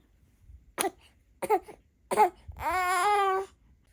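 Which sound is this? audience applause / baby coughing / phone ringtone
baby coughing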